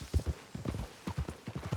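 Horse hooves clip-clop at an easy walking pace in Red Dead Redemption 2, a steady rhythm of close, soft thuds over a dirt trail with no voices.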